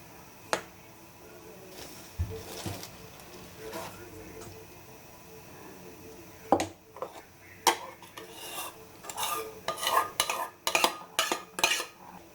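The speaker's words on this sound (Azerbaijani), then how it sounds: "Qaşıq və ya lapatka vasitəsilə yavaş-yavaş xəmir birləşir." Cake batter for a Spartak cake being slowly stirred in a bowl with a spoon or spatula, soft scraping and clinking strokes, sparse at first then quicker and more frequent, fairly close and quiet.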